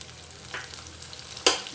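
Ginger garlic paste sizzles quietly in hot oil while a spoon stirs it, with a sharp scraping stir near the end.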